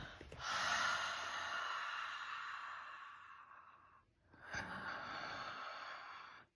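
Long, audible exhales during yoga breathing, two breaths in a row: a drawn-out airy rush, a short pause, then a second steady outward breath, close and fairly soft.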